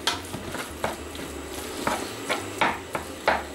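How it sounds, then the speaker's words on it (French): Meat and grated onions are stirred in a frying pan for a potato-and-meat brick filling, with repeated scraping strokes over a steady background sizzle, close and moderately loud, no talking. "Allez, j'ajoute la viande. On mélange bien les ingrédients ensemble."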